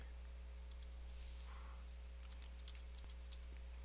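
Quiet clicks of a computer keyboard being typed on a Mac while formatting an Excel 2011 worksheet, faint and close, with a cluster of keystrokes and a firmer tap toward the end over a steady electrical hum.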